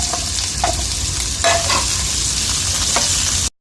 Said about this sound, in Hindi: 3 चमचे हमने इसमें ऑयल डाला है और इसमें हम तकरीबन 2 प्याज़ें डाल देंगे और इन्हें फ्राई कर